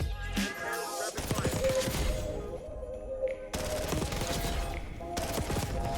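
Sustained bursts of rapid automatic fire from a PPSh submachine gun in a shooter video game, loud and dense, with a short pause partway through before the rattling volleys resume.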